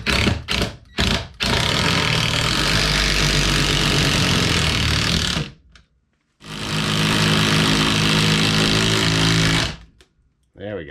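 A power driver sinks lag screws into a squeaky floor in two long, loud whirring bursts, each several seconds, after a few short trigger blips, with a brief silent pause between them, recorded close.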